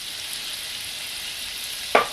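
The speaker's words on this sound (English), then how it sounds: "And we're just going to cook this until there's no more pink in the sausage." Sausage frying with garlic in a cast iron pan gives a steady, moderate sizzle, ending in a single sharp clank, with no one speaking.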